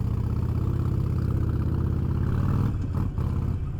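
A motorcycle engine idles nearby with a steady, throbbing low rumble, dipping briefly near the end.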